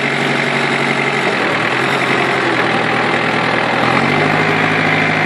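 Yanmar FX Powershift tractor engine running steadily and loudly at raised throttle, a continuous mid-to-low drone with a slight shift in pitch near the end, with the wheels free on muddy ground and no talking.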